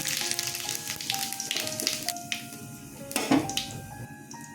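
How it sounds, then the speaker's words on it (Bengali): Dried chili, bay leaf, cumin and fennel seeds sizzle and crackle in hot oil in a pan, with bright bursts of frying, a few clinks and stirring sounds, and a sharper spatter near the end. "তেল গরম হয়ে গেছে শুকনো লঙ্কা তেজপাতা ফোড়ন দিয়ে দিলাম আর জিরে মৌরি ফোড়নে দিলাম"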